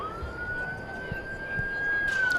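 Ambulance siren wailing steadily as an emergency vehicle heads out at DFW Airport, a sustained tone rising slightly and holding over distant background rumble.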